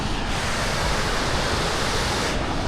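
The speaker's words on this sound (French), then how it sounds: "Hier et aujourd'hui, c'est deux journées un peu rando, cascade, canyon." A waterfall in the Sainte-Anne canyon in Canada roars as a loud, steady wash of broadband rushing water, continuous and close with no voices.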